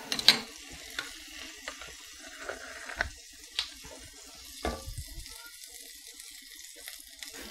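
Butter and olive oil heating in a pan, giving a faint low sizzle with scattered light clicks and taps of cookware, quiet and close, easing off toward the end.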